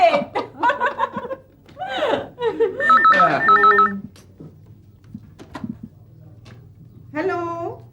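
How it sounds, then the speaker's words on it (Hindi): A telephone rings with repeated bursts of electronic ringing in the middle of a Hindi afternoon comedy serial scene, mixed with lively talk and laughter before and after the rings. "दुनिया के कोने कोने से आपको बधाई के फोन आ रहे हैं।"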